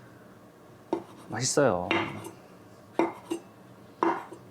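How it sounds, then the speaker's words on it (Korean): A knife slices mushrooms on a cutting board for meatless japchae, giving a few sharp, distinct cuts and board taps spaced apart, close and clear, with a short spoken remark. "오늘 잡채에는 고기를 안 넣을 거기 때문에 좀 버섯을 많이 썰어 넣어줄 거예요."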